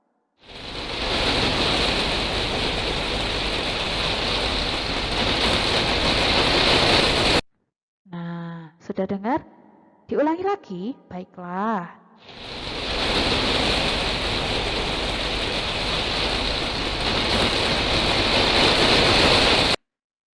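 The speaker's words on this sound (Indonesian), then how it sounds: "itu tadi suara hujan yang sangat deras sekali" Very heavy rain pouring down as a dense, constant hiss, loud and close, heard in two long stretches separated by a brief pause in which a person speaks.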